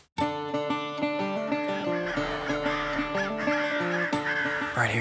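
Crows cawing during a public-land crow hunt, loud harsh repeated caws layered over one another in quick overlapping bursts, close and continuous throughout.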